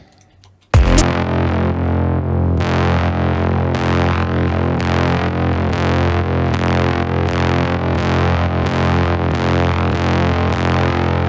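A sustained, distorted synth bass repeats a pulsing note pattern after a sharp opening hit, with a spacious plate reverb tail filling out each stroke in the stereo field.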